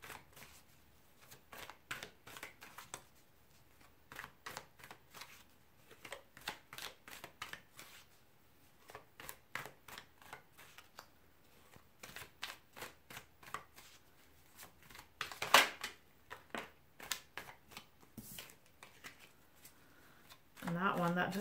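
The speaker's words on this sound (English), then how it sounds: "Now I'm gonna just shuffle this stack and then I'm gonna cut it." Repeated crisp riffling bursts of a tarot card deck being shuffled, close up and fairly quiet, with a few pauses and a sharper flutter partway through.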